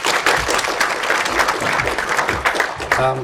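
A live audience at a memory talk applauds a volunteer named Daisy: dense, steady clapping filling the room throughout, with a brief voice at the end.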